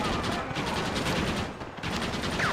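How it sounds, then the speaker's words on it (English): Rapid sustained bursts from a World War I style machine gun in Red Dead Redemption rattle loudly throughout, a steady stream of shots with a brief dip before resuming. "the machine guns that they used in World War I"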